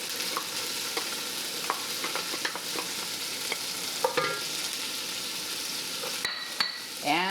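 Celery, onions and carrots sautéing in a pan for chicken corn chowder: a continuous soft sizzle with intermittent stirring scrapes and light utensil taps, close and moderately quiet, with no speech.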